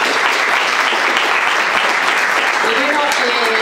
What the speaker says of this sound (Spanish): Damos un aplauso a